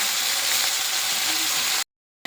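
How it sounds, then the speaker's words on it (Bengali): Prawns frying in oil for a Bengali jackfruit-and-prawn dish give a steady, close sizzle that runs unbroken for almost two seconds, then cuts off abruptly into silence before a brief return at the end. "এবার চিংড়ি মাছগুলো ভেজে তুলে নেব"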